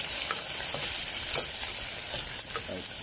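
Onion and chili frying in hot oil with mustard seeds for a Sri Lankan fish gravy, a steady loud sizzle with a few stirring clicks and scrapes and no talking.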